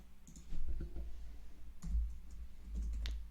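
An equation is typed into Desmos on a computer keyboard, quiet soft key clicks scattered in short irregular bursts against a low hum.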